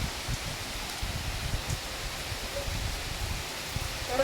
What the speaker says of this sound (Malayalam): എന്തൊരു മഴയാന്ന് കണ്ട തകർത്ത് പെയ്യുക